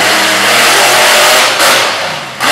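Monster truck engine at a night show in Harrington, Delaware, revving loud and close in a sustained roar that swells and dips, with a brief drop near the end before surging again.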